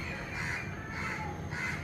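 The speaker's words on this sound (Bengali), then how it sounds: "বিকেলবেলা কাক বা কাউয়া, আঞ্চলিক শব্দ যেটাই বলি, মনের আনন্দে" Crows cawing near a window in the late afternoon, a few harsh caws sounding close by, with a busy flock behind them.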